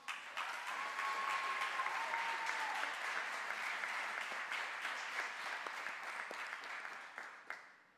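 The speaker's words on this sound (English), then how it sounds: "Round of applause for them one more time." A graduation audience applauds an award winner with sustained, dense clapping that holds steady for about seven seconds before tapering off, with faint voices mixed in.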